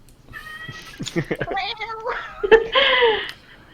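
A cat meows several times in close succession, loud and near, the calls rising and falling with a drawn-out wailing quality toward the end.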